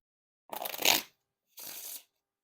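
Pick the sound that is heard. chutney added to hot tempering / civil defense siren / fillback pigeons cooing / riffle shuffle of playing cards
riffle shuffle of playing cards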